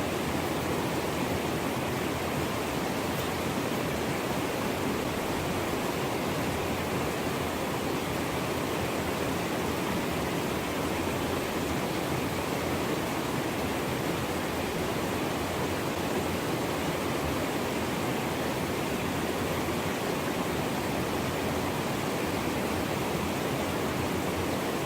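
Creek water at Emery Creek flows steadily in a constant broadband rush, close and even, with no talk over it.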